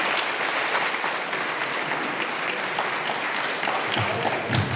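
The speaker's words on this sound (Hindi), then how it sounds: "जोरदार तालियां।" Loud, continuous applause from an audience at a degree college address, a thick wash of clapping that holds steady throughout.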